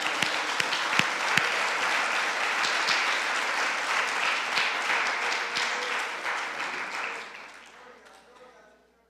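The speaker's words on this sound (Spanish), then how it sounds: "Dios merece un aplauso, hermano." A church congregation applauds in a dense, sustained wash of clapping that holds steady for several seconds and then fades away toward silence.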